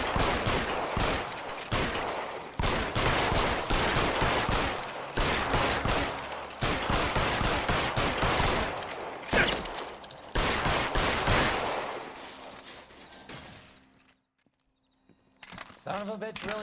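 Gunfire in the 1940s Los Angeles detective game L.A. Noire, dense repeated volleys of shots from several guns for about twelve seconds, loud and close, then tapering off, with occasional dialogue over the action.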